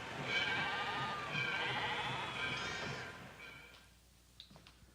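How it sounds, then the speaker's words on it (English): Sheep bleat in a wavering chorus, loud and sustained for about three seconds, then fade into a quiet tail with a few faint knocks. "let's go watch them slaughter the sheep"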